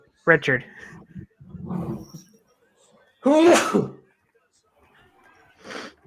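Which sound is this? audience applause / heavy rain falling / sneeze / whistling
sneeze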